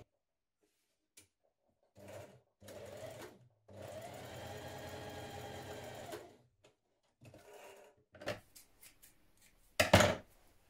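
Sewing machine stitching the back centre seam of a knit neckband, heard in several short runs and one long steady burst of rapid mechanical whirring, close and alone without talk.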